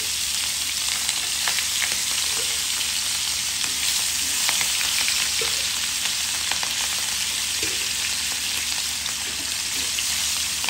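Fish frying lightly in hot oil, a loud, dense, steady sizzle with constant fine crackling and a few soft stirring knocks, close up and unbroken for the whole stretch.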